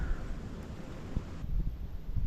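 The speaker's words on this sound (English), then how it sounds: "As you can tell, it's pretty windy." Wind buffets the microphone in a steady low rumble, with gusts rising and falling outdoors beside a cornfield in January.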